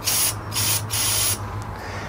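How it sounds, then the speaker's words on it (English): A can of compressed air sprays in three short bursts, each a sharp, loud hiss lasting about half a second, with brief pauses between, close by and with no talking. "get a can of air like you use for dusting"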